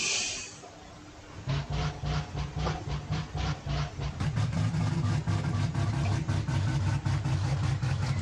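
A 13B rotary engine in a car in BeamNG.Drive starts and settles into a steady idle, with a rapid, even pulsing that grows louder and fuller partway through.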